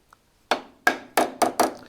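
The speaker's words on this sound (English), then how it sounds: "I'll just give that a bit of a tap with a soft hammer." Five sharp taps from a soft hammer knocking a part into a lathe spindle, the first alone after a brief tick, then four quicker blows in an uneven rhythm, close and crisp with short ringing decays.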